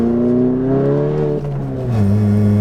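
A loud Volkswagen MK7 GTI engine with an APR Stage 2 tune revs hard, its pitch climbing steadily, briefly dipping at a gear change, then rising again, close and continuous.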